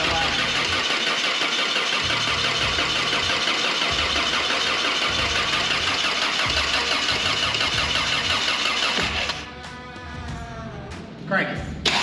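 A 1985 classic RV engine cranks over steadily with a repetitive starter chug for about nine seconds while the accelerator is held to the floor, then the cranking stops and people talk quietly.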